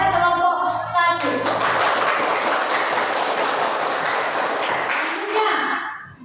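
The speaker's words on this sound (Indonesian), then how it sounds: "mari kita berikan tepuk tangan kepada kelompok 1" A classroom of students bursts into applause for a presenting group, dense clapping that starts after a brief spoken phrase and holds steady for several seconds before tapering off.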